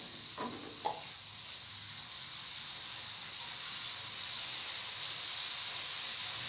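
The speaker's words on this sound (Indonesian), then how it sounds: "Sekarang aku masukkan airnya sekitar 100 ml." Water poured into a pan with cooked egg sets off a steady, fairly faint hiss and sizzle that keeps going and swells slightly, with a couple of small clinks near the start.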